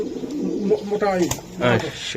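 Racing pigeons in a loft give a few close, soft rolling coos over a couple of seconds while a person speaks nearby.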